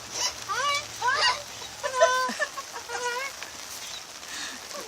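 A pet bird gives a run of short, bright chirping calls and warbles, close by, over a faint background hum.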